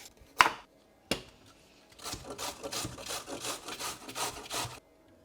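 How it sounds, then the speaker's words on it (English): A carrot is rubbed against a grater in rapid, rasping back-and-forth strokes, close and fairly quiet, after a couple of sharp knocks at the start. "I'm going to use the same grater for the carrot as well."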